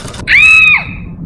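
A woman lets out a single sharp, high-pitched scream of pain after her finger gets caught in a sewing machine, loud and close, lasting about half a second before cutting off.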